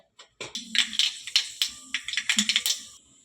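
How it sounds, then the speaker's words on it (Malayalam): Mustard seeds crackle and pop in hot oil, a close, irregular burst of sharp little snaps clustered in quick runs with brief pauses, no talking. "എണ്ണ ചൂടായിട്ടുണ്ട്. അതിലേക്ക് നമുക്ക് കടുകിടാം. കടുക് പൊട്ടട്ടെ."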